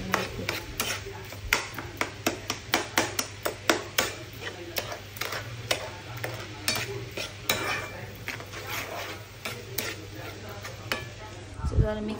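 A spoon stirs mini kiwi jam with lemon in a pot, repeated quick clinks and scrapes against the metal over a low steady background hum, ending with a brief rattle.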